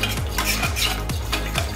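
Quinoa being mixed into an allergy-free vegan burger mixture in a bowl, with steady rhythmic stirring strokes about every half second, close and fairly loud, no voices.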